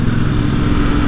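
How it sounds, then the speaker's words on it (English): Motorcycle engines rumble past on a twisty mountain road in the Vosges, a loud, continuous engine drone for about a second with no talk. "Motorcycles."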